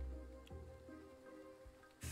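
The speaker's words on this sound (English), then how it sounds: "And it's raining." Soft, steady rainfall in the video game Graveyard Keeper patters on a surface, faint and even, with a low rumble and a brief louder swell near the end.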